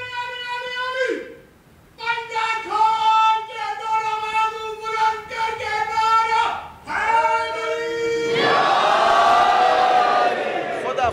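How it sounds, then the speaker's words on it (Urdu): A large crowd at a majlis chants religious slogans in unison, loud and repeated call-and-response bursts with short pauses, swelling into a dense roar of many voices at the end. "نعرے ماشاءاللہ سے ادھر سے لگ رہے ہیں، ادھر سے لگ رہے ہیں"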